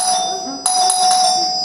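An electronic doorbell chime rings out, sustained bright tones with a fresh strike partway through, loud and close, with a voice briefly underneath.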